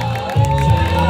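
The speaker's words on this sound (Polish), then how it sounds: "Wielkie brawa dla całej trójki!" Crowd at a Runmagedon obstacle race finish on Kocierz cheering and clapping for a team of three, loud shouts and whoops rising over steady outdoor noise in a short burst.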